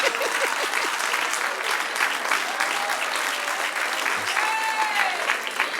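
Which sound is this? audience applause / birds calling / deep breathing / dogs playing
audience applause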